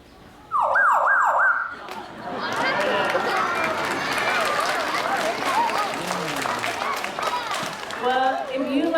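A zoo bird imitates a fire truck siren with a loud, rising-and-falling wail repeated several times, followed by a crowd clapping and cheering with further warbling calls as people talk.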